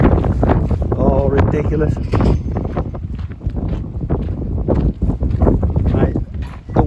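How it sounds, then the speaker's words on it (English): Heavy wind buffeting a microphone on a stormy day by a lighthouse, a loud continuous rumbling roar throughout with someone speaking briefly over it. "I won't keep you long with the wind noise."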